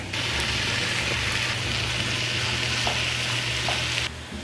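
Corn goes into a frying pan of softened summer squash and browned garlic, setting off a loud, continuous sizzle with light stirring clatter that eases off abruptly at the end.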